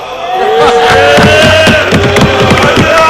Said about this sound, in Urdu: نعرے بازی نہ کریں, نعرے بازی نہیں کریں, اسپیکر صاحب بالکل نعرے بازی نہ کریں